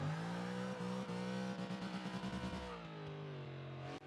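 Mazda RX7 rotary engine in the Forza 6 video game revving hard and bouncing off the limiter with manual gear changes, a loud, buzzy, close whine stuttering rapidly, then easing off, no voices.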